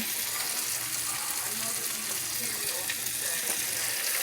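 Oil and melting butter sizzle in a hot frying pan with a steady, crackling hiss that stays fairly soft throughout, without any talking.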